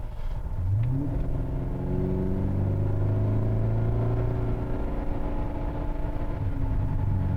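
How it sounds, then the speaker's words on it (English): Ford Crown Victoria coasting off the accelerator, a low steady engine drone with gently falling tones as revs settle, heard from inside the car with a constant road rumble and no voices. "It's kind of just coasting right now if I'm not on the accelerator"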